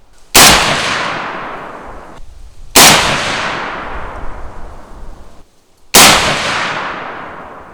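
Three loud, sharp rifle shots from an HK MR762 LRP 2, evenly spaced about two and a half seconds apart, each with a long rolling echo that fades before the next.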